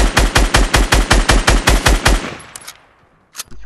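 Automatic gunfire in a video game: a rapid burst of about eleven loud, evenly spaced shots that stops and trails off into echoing decay, followed by a single sharp shot, with no talk.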